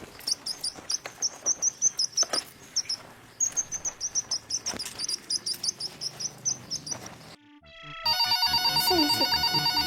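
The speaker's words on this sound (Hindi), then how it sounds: "अब तो फोन ले रहा डालचंद" A mobile phone ringtone starts up and keeps ringing loudly at the end, as a steady repeating electronic tone, after a stretch of chirpy bird-like sounds.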